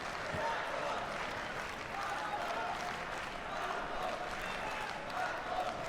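A large arena crowd in Budapest's Pap Laszlo Arena applauds a judoka after a world championship bout, steady dense clapping filling the hall at a moderate distance, continuous throughout.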